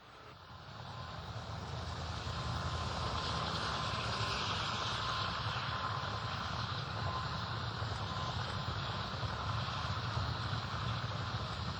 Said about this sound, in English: Numerous Mi-8 helicopters already on the ground with personnel.